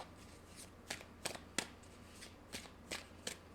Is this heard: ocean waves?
no